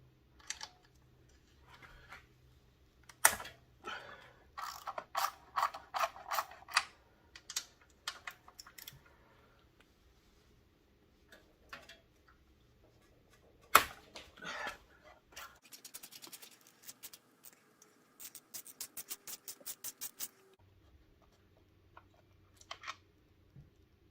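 A socket wrench removing the bolts of a motorcycle air cleaner before fitting a DK Customs Outlaw 606 air filter, giving close, rapid ratcheting clicks in bursts with pauses and some handling noise.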